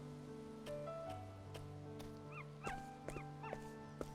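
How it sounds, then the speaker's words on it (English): A dog-like creature in the video game Octopath Traveler 2 gives a few short, rising yelps and whimpers near the end, layered over a steady tonal music bed with soft chimes. "Yeah, it kind of sounds like a dog."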